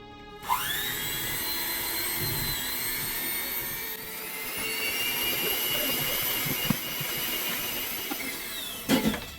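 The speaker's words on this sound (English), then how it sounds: "a good way to shred the chicken rather than using 2 forks and pulling it apart like we all usually do is a hand mixer" An electric hand mixer whirs steadily as it shreds cooked chicken for a Santa Fe chicken and rice backpack meal, a loud continuous motor whine that holds nearly unchanged before stopping with a couple of knocks near the end.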